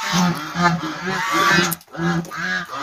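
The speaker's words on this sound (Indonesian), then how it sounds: "Ya agak berisik ya teman-teman untuk angsanya." Geese honk loudly and repeatedly at close range, a dense run of harsh nasal calls with a brief pause before more honking resumes.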